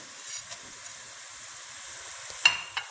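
Whole garam masala sizzles in hot oil among browning onions for a pulao, a steady low frying hiss with a few soft stirring clinks, nobody talking.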